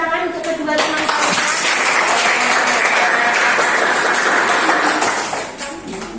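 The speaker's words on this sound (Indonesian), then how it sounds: "Beri tepuk tangan untuk kedua teman kalian." Indonesian secondary students in a classroom applaud two classmates after a maths answer, a loud close burst of many hands clapping that swells and then trails off, with voices briefly underneath.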